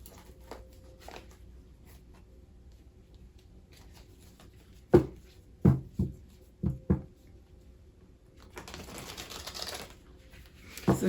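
A deck of tarot cards being shuffled close by, with a few sharp riffles and snaps in the middle and a longer, busier stretch of shuffling near the end against a quiet room.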